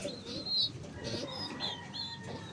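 Young racing pigeon squabs in a loft cooing softly, with faint chirps and rustling, close and low in level throughout.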